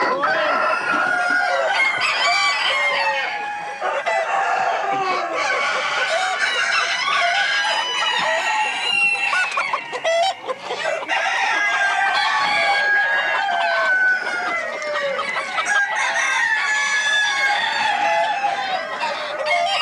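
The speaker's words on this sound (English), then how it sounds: "It must be admitted that cock crowing is not really a spectator sport." Roosters crow over and over in a Belgian cock-crowing competition, several birds calling loudly and overlapping with drawn-out cock-a-doodle-doos and clucks, nearly continuous throughout.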